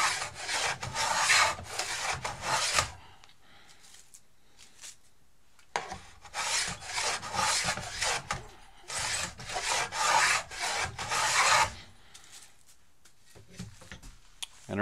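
A Stanley No. 55 combination plane shaves a wooden test piece in repeated long, close hissing strokes, each lasting a few seconds and separated by short quiet pauses.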